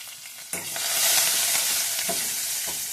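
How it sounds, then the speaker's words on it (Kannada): Garlic frying in a pan for betel-leaf rasam: a steady, close, loud sizzle that surges sharply about halfway through the first second and stays bright and hissing to the end, with no talking. "ಇದು ಒಂಚೂರು ಬೆಳ್ಳುಳ್ಳಿ ಫ್ರೈ ಆಗಬೇಕು"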